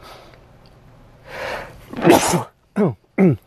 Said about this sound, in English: I'm going to sneeze here in a second.